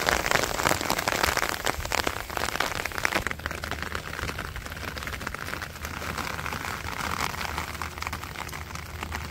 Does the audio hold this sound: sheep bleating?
no